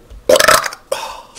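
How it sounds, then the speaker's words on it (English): A video game character lets out two loud, close burps, a long rumbling one followed by a shorter one, with no talk over them. "See, you burp too."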